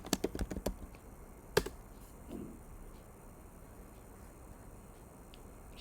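Short bursts of computer keyboard typing, a quick run of close clicks at the start and another cluster near two seconds, then quiet room hiss.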